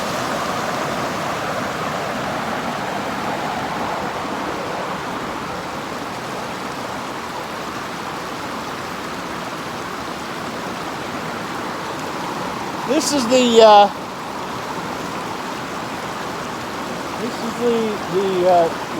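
A river rushes past a powerhouse, a steady broadband roar of flowing water heard up close and loud throughout, with someone talking over it.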